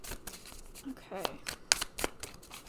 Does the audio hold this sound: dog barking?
no